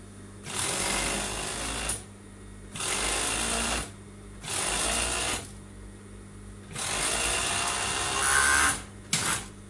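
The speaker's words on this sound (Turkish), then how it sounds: "Yanlarını dikeceğim" A sewing machine stitches the side seams of a pencil skirt in four or five loud, close bursts of rapid whirring, each lasting one to two seconds and separated by short pauses, with no voice heard.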